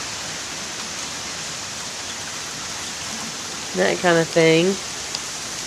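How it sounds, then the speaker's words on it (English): Heavy rain from Hurricane Irene pours down in a steady, dense hiss, with water running from a gutter, and a voice speaks briefly near the end. "So right now we've just got a really big rainstorm"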